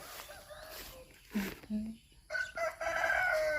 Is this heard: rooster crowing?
yes